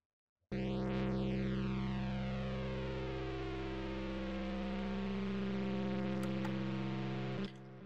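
A dense synthesized riser drone with sweeping, shifting tones builds and rolls like a heavy vehicle passing by, steady and sustained before stopping abruptly.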